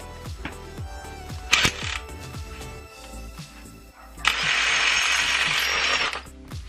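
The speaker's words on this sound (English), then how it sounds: "let's take this bolt out of here first" A tight bolt is loosened on a car's front suspension during a coilover install on a second-generation Eclipse: ratcheting clicks and metallic clanks of tools, then a sustained harsh grinding whir, close and loud.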